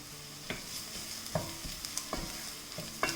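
Turmeric and spices fry in a curry pan with a soft continuous sizzle, punctuated by periodic scraping knocks of stirring about every half second, close and without talk.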